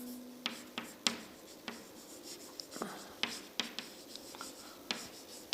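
A pen scratches across paper while someone writes out a truth table for a D flip-flop, giving soft, close strokes with sharp taps between them and quiet murmuring underneath.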